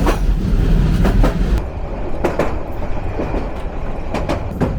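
The Egarosindhur Provati train rolls along the rail line past rows of palm trees, a loud rumbling run with repeated sharp clickety-clack wheel beats over rail joints, close by and without talk.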